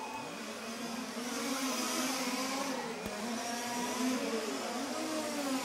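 Large-scale RC touring cars race through a 2012 European championship sub-final, their motors making a steady, continuous high whine that swells slightly as the pack passes, with no pauses.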